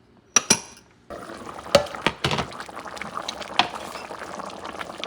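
Goat curry with potatoes and carrots simmers in a pot on the stove. A few sharp clanks of a lid and utensils come first, then a steady low bubbling hiss that continues to the end.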